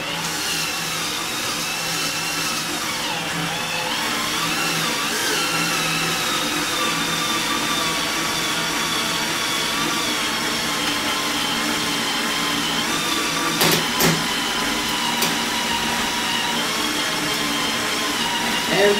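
A boring machine cuts a bore into a Dodge Ram 1500 transmission case, giving a steady, loud mechanical whine and hum that runs unbroken throughout, with brief higher clicks near the end.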